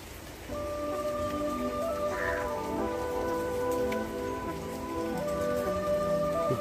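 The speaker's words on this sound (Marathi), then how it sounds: "कंटिन्यू पाऊस चालू आहे इथे" Steady monsoon rain falls in the Sahyadri mountains during a rainy-season trek, a continuous even hiss of drops with sustained tonal hums layered faintly over it and no talking.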